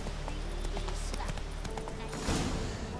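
Roach the horse trotting in The Witcher 3, a steady clip-clop of hooves close by, running throughout with faint speech and game sounds in the background.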